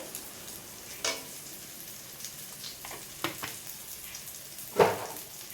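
Ground coriander, cumin and fennel fry in oil for a vegetarian dish, with a soft sizzle broken by scattered stirring scrapes and one louder clack near the end.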